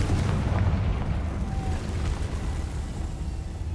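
A Confringo fire spell bursts in Hogwarts Legacy, a loud rumbling explosion that rolls and sustains through the moment, heavy low boom with no talk over it.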